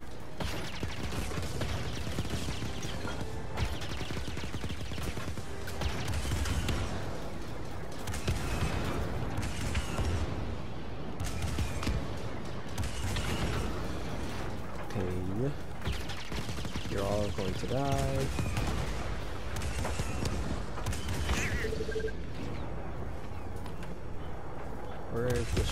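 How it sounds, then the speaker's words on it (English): Blaster fire in Star Wars Jedi: Fallen Order, scattered shots and volleys mixed into busy battle noise with mechanical creaks and clanks, steady and moderately loud throughout, with someone talking over parts of it. "Where is the shooting coming from this time?"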